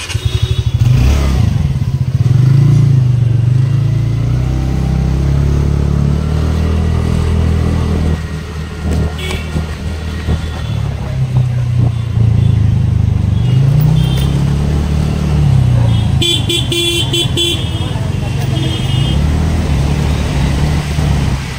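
A motorcycle rides through Mumbai traffic on the way to Virar, its engine droning steadily and close with pitch rising and falling as it speeds up and slows, wind rush and passing traffic around it, and a brief horn-like beeping near the end.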